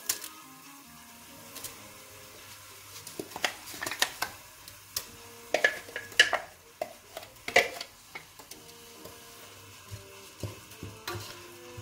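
Carrot and fennel sautéing in a pan for a chickpea and chicken leg dish, with quiet sizzling under repeated scraping and clacking stirring strokes that build through the middle.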